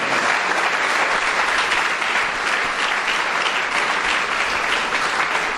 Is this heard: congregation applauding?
yes